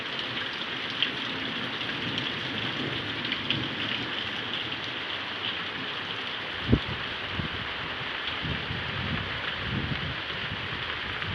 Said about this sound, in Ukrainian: Навіть грім десь до нас підходить.